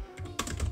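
Keys tapped on a DOQO MorphFlex keyboard case for an iPad, a short run of soft clicks that grows louder and denser toward the end, close and alone.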